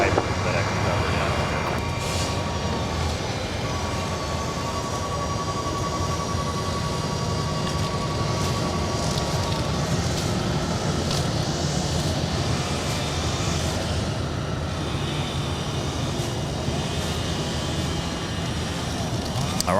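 An airliner taking off at LAX gives a broad, continuous jet roar at moderate distance for the full stretch, while a person talks over it throughout.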